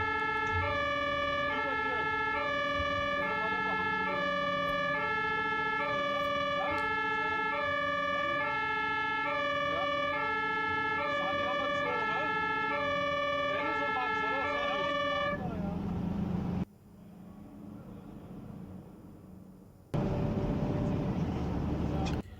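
German fire truck sirens wail in a steady repeating two-tone pattern over traffic rumble at a major accident, then cut off abruptly, leaving street noise.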